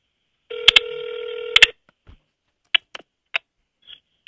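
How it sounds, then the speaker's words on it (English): Telephone keypad dialing an extension during a business phone call, giving two long DTMF tones with sharp clicks, then several short separate beeps after a pause, loud and clear with no voices. "If you know your party's extension, feel free to dial that now."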